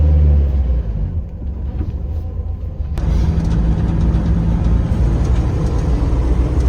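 A Ford Pinto engine pulls away in first gear, a loud low rumble that thickens and steadies as the car gets moving, with a brief click partway through and no talk.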